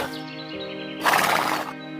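A horse neighs in a Hindi bedtime story, one drawn-out whinny that swells in the middle over a sustained musical backing, loud and close.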